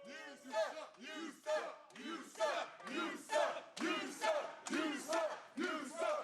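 A wrestling crowd at WWE SmackDown chants in unison, a rhythmic, repeated call rising and falling in about eight even pulses, heard from a distance over a broadcast.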